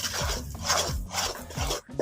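A spoon scrapes and stirs gram flour roasting in a pan for barfi, giving steady rasping strokes about twice a second, close and fairly loud, with no talking.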